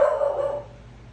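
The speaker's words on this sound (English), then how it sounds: "my dog started barking" A dog gives a single fairly close bark that fades out over about half a second into a quiet hum.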